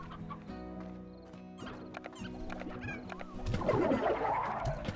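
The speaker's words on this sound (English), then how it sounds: "I could have swore we had briar hens around here somewhere" Briar hens in the video game Slime Rancher cluck in soft, scattered bursts over a gentle looping music bed, growing into a busier flurry of clucks near the end.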